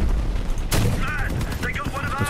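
Cannon fire in the vehicle combat game Crossout, one heavy blast cracking out mid-clip over rumbling engine noise, with someone talking over the action.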